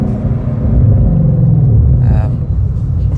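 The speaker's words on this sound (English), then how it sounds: "You can hear V8." A Ford GT's V8 rumbles deep and loud from inside the car while driving, a steady low growl. Brief other noise comes through near the end, and people talk faintly under the engine.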